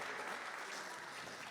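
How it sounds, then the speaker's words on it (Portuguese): Steady, full applause from a church congregation, many hands clapping at once in a continuous, even wash of sound. "Bem forte as palmas para Jesus."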